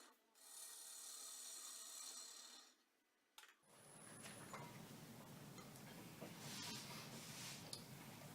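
A woodturning gouge, a 3/8 inch one taking over from a 1/2 inch, roughs a bowl blank cut from a log. A steady, close, rasping scrape runs for several seconds, breaks off briefly, then resumes as a denser, rougher cut.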